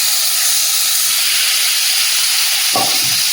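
Fish frying in hot oil, a loud steady hiss and sizzle close up, with a brief low clunk near the end and no voices.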